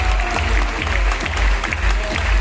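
A crowd at a motivational experience-sharing gathering claps briskly and steadily, a loud, busy patter of many hands with a few heavier beats, and faint voices mixed in underneath.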